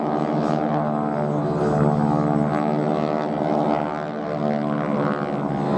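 Stearman biplane at Duxford air festival during a wing-walking display, a steady droning radial-engine and propeller hum with a rich buzzing tone, moderately loud and continuous throughout, with no voices.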